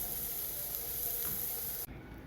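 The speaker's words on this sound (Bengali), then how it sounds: "শাক ভাজা, যে কোনো ভাজা গ্যাসটা একটু হালকা কমিয়ে দিতে হয়" Leafy greens (saag) fry in a pan over a lowered gas flame, giving a soft, even sizzle that holds steady and then cuts off suddenly near the end.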